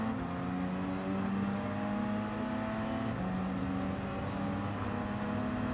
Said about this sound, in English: Sounds like Bianchi's on the rev limiter there